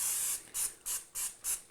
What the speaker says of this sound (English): we're going to spray it with some non-stick spray here